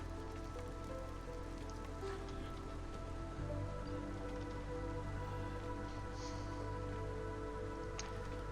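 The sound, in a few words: storm rain in video game Against the Storm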